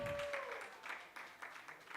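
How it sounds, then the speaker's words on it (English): An audience at a media panel event applauds the panelists and speakers, with a rippling mass of claps at moderate volume. A brief tone and a voice fade at the start. "Clap for the panelists, the speakers"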